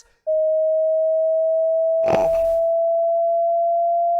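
A steady, pure sine tone begins abruptly and holds loud and unbroken to the end, with a brief noisy burst, like a short vocal sound or bump, crossing it partway through.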